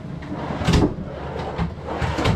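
Close, loud wooden rumbling and knocks from a condo drawer being slid open and pushed shut, with several scraping runs and bumps under a steady room hum.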